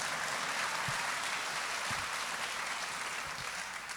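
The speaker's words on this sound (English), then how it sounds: "Yes, you can clap for that." An audience at a talk with Stacey Abrams and Jake Tapper claps in a faint, distant, steady wash that fades slightly toward the end.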